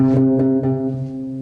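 A single guitar note is plucked and rings out with a steady, slowly fading tone, faint string noise on the attacks.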